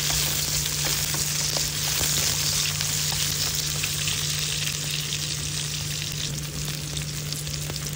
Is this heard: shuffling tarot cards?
no